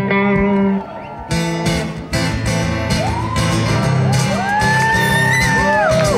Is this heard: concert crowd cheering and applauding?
yes